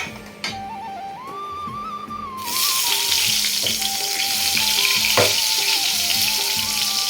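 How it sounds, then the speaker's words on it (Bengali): Eggplant slices frying in hot oil give a loud, steady sizzle that jumps up sharply after a quieter start and then holds as a dense, continuous crackle close by, with faint clinks and a low background hum. "তো চলো এখন বেগুনগুলি ভেজে তারপর লুচিগুলো করি, ঠিক আছে? আর তেলটাও গরম হয়ে গেছে।"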